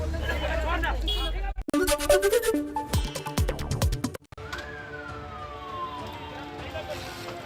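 A police siren wails, its pitch sliding down slowly as police cars stop amid a busy street in Bengal, with voices, thumps and clatter.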